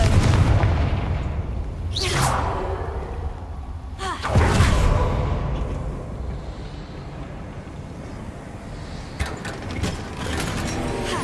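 The Confringo blasting spell explodes in Hogwarts Legacy, with a few heavy booming blasts spaced several seconds apart over a steady rumbling game soundscape, followed by sharper pops.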